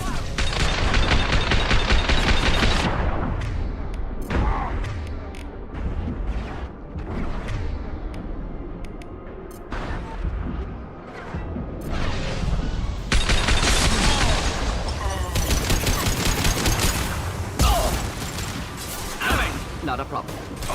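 Sustained gunfire in the Mass Effect 2 video game, loud bursts and rattling volleys mixed with booms and whooshes across the whole stretch, with voices speaking amid the combat.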